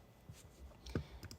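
Computer mouse clicks during slide editing in presentation software, a few faint, sharp clicks over a quiet background, with one slightly louder click near the end.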